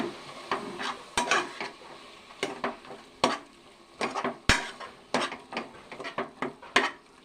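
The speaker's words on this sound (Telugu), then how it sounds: "మనం ఉల్లిపాయ ముక్కలు వేసి వేద్దామండి" Onion pieces fry in oil in a pan alongside a masala paste, with repeated stirring scrapes and clinks cutting through a steady low sizzle, close and fairly quiet, no voices.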